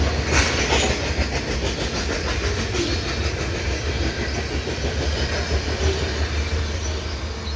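A CN grain freight train with 1970s Illinois Central cars rolls past, a steady rumble with rhythmic clickety-clack of wheels over rail joints at close range, holding an even volume throughout without talking.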